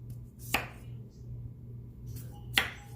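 A knife chops through baby red potatoes on a cutting board, two crisp separate strikes about two seconds apart against a quiet kitchen background.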